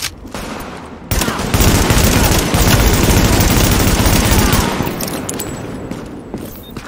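Dense gunfire in the video game The Division: a loud, sustained barrage of rapid shots and machine-gun bursts that starts abruptly, holds for several seconds and then fades, with no talk.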